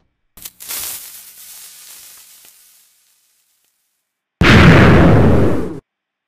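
A Minecraft cannon fires with a hissing fuse burst that fades out, then after a short silence a loud, close explosion roars for over a second before cutting off.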